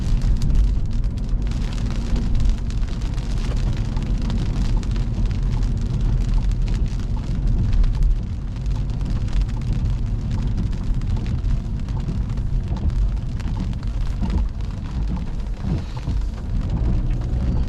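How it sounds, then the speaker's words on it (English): Steady heavy rain pours down while low rolls of thunder rumble underneath, continuous throughout with no voices. "Damn, it's raining."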